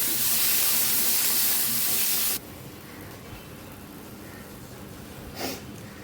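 Katla fish sizzles loudly in a frying pan for about two seconds, then drops off abruptly to a much quieter hiss with one brief flare near the end. No voices.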